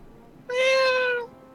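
A person imitates a cat with a single drawn-out meow, clear and close, lasting under a second against a quiet background.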